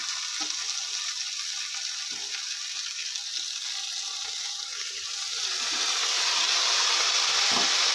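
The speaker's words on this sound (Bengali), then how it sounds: "2 মিনিট মতো কষানোর পর এরপর আমি এই পাতাগুলো দিয়ে দিচ্ছি" Ash gourd leaves sauté in a hot pan, giving a continuous sizzle that swells louder after a few seconds, with occasional scraping clicks from a utensil stirring the leaves.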